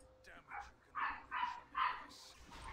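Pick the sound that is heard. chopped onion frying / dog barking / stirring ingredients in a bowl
dog barking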